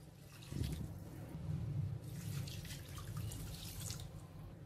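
Water pours into a pressure cooker for chicken biryani, heard as a soft continuous gushing splash with faint dripping, fairly quiet and close, running for several seconds.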